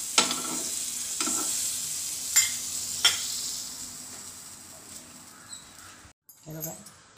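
A sandwich toasts in butter on a pan, giving a steady low sizzle with a few sharp clicks and scrapes, then a brief clatter near the end.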